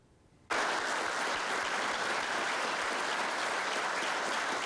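Sustained, dense applause welcoming new Syracuse football coach Dino Babers, starting abruptly after a brief quiet moment and holding steady and loud throughout, with no voices standing out.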